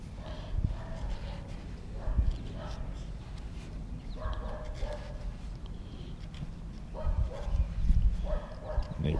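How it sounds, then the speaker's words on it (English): A neighbour's dog barks in short bursts at a distance outdoors, faint under a steady low background rumble while someone works on driftwood crafts. "Neighbor's dog is saying hi to somebody."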